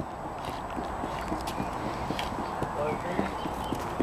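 A stallion walking at the Irish National Stud, hooves clip-clopping in a steady, soft rhythm against a busy outdoor background, with voices murmuring nearby.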